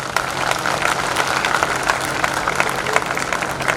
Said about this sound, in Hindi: एक बार जोरदार ताली इस बात के लिए।